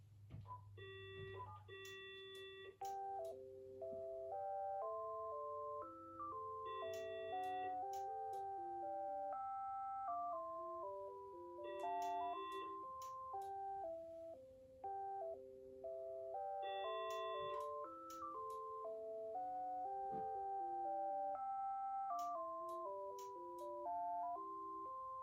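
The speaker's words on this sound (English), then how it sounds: "let's get a shot of this telephone ringing." An Uniden waterproof cordless telephone ringer plays a repeating chirpy melody in several cycles with short pauses between, faint and steady, no voices.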